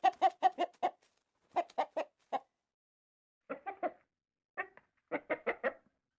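Several chickens cluck in short bursts, a quick run of clucks followed by scattered groups after pauses, fairly close and clear with no talking.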